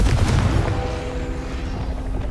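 A Confringo blasting spell in Hogwarts Legacy explodes with a heavy, booming blast that rumbles loudly up front and then trails off into a lingering low roar.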